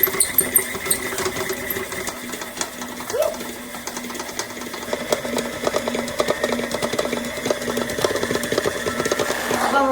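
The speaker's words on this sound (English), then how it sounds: "Now what we're going to do is put this in a KitchenAid and we're going to mix it." A KitchenAid stand mixer beating cream and butter, a steady whirring motor with rhythmic beater clatter running continuously throughout, fairly close and loud, with faint voices in the background.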